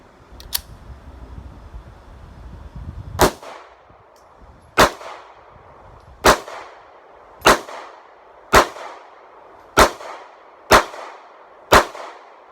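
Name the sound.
M&P Shield 9 pistol shots with 8-round magazines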